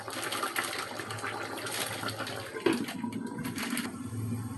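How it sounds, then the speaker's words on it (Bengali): Koi fish bhuna curry with green chillies and salt bubbling under a lid in a covered pot, a steady close churning, hissing simmer with faint watery gurgles running throughout. "বলক উঠে গেছে"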